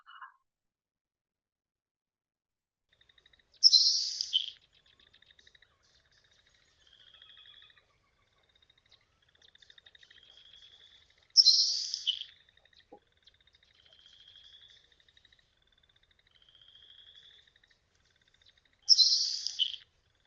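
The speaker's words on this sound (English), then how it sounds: "the Nelson sparrow, on the other hand, much more kind of thin, ethereal sounding" Nelson's sparrow song recorded in a marsh: three sharp, thin buzzy bursts spaced several seconds apart, separated by faint high wispy notes, alone and fairly distant.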